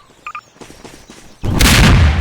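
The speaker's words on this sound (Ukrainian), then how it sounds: "Як вони стріляють гучно." In a video game, after a few faint taps and a short beep, a loud burst of rapid gunfire erupts and continues to the end.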